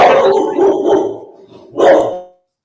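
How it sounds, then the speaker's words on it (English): A dog barks in two loud, close bursts, a run of several barks followed by a short pause and then a final sharp bark that cuts off into silence. "you decide to start barking at the dang leaves falling"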